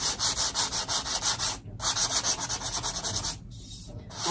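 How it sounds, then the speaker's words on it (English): Sandpaper rubbing by hand across a painted metal file cabinet, quick rhythmic back-and-forth strokes, close and crisp, with two brief pauses between bursts. "It's just been sanded just a little bit."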